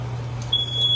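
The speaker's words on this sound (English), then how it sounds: "And we have the smoke alarm. Oh, it went off, y'all." A high-pitched electronic alarm tone starts partway through and holds steady over a low hum.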